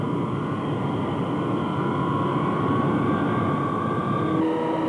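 A Boeing KC-135 Stratotanker jet taxis during low- and high-speed taxi tests, giving a continuous loud engine roar and whine that holds steady throughout with no voices.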